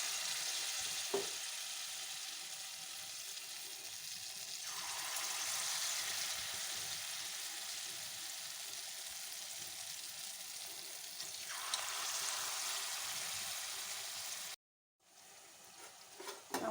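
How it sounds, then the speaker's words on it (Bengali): Mango flower fritters fry in a pan of hot oil with a steady, soft, even sizzle throughout, one faint clink near the start, a brief cut near the end, no talk. "আমার তেলটা হয়ে গেছে এবার আস্তে আস্তে করে আমি ফুলগুলো ছেড়ে দেবো"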